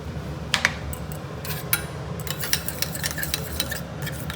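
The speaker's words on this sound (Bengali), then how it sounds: "এটার মধ্যে অল্প গুড় মিশিয়ে দেখি" Jaggery being stirred into a little milk in a pot, with a spoon scraping and clinking against the metal in irregular close strokes over a low steady background hum.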